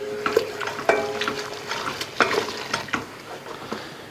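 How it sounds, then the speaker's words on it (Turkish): Milk being whisked into a helva mixture in a pan on the stove, giving a steady run of stirring scrapes and soft sizzling with a few sharper clinks of the whisk against the pan, close and alone with no talking. "Güzel bir şekilde çırpacağız."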